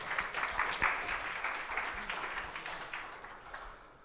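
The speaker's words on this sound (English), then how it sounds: "Round of applause" An audience at a conference talk claps steadily for about four seconds, a dense, even patter that slowly thins and fades toward the end.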